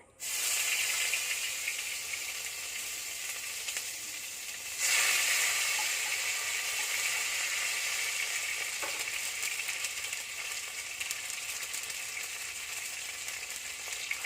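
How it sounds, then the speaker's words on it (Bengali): Chopped tomato fries in oil rendered from pangasius fish. A loud, continuous hissing sizzle swells sharply partway through and then holds steady up close, with no one speaking. "এবার দিয়ে দেবো টমেটো কুচি ওই তেলে"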